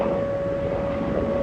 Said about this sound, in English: I got air sirens going off.